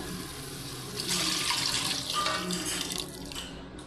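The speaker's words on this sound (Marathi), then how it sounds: "त्यात आपण गरम पाणी टाकू" Hot water poured in a steady stream onto chicken in a pot, close by, lasting a few seconds with a gurgling, splashing texture.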